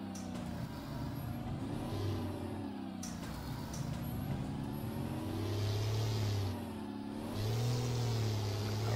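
A Peterbilt 389 truck engine in American Truck Simulator idles and revs in a steady mid-low drone, with air-brake hisses near the start and swelling revs as the truck reverses, heard alone with no talk.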